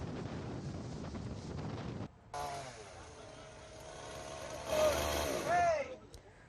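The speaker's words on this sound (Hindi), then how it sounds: "पश्चिम बंगाल के सुंदरबन में तूफान के आने से पहले तेज हवाएं चलने लगी है" Strong gusts roar across the microphone on the coast of West Bengal ahead of Cyclone Yaas. The loud buffeting rush breaks off abruptly after a couple of seconds into quieter, edited outdoor sound.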